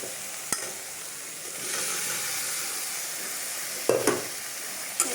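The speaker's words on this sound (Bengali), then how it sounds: "এই যে মশলাটা কষে এসছে, তারপরে পটল আর আলু ভাজাটা দিয়ে দেবো।" Spice masala is sautéed with fried pointed gourd and potatoes in a pan, making a continuous hissing sizzle broken by a few sharp spatula scrapes and knocks against the pan.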